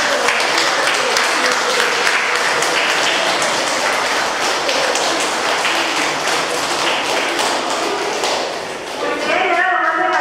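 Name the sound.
audience applause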